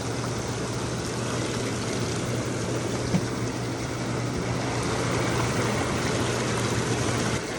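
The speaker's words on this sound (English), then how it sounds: "We can try pump number 1 here. Here we go. Everything's running." A Hydropool Self-Clean Signature Series hot tub with its pump and waterfalls running, giving a steady, even rush of churning water with a low hum underneath, moderately loud and constant.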